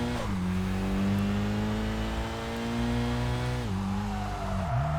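Car engine in the racing game Kaido Racer 2, revving steadily, dipping on a quick short upshift partway through, then climbing again before another brief shift; loud, continuous and close, with no talking.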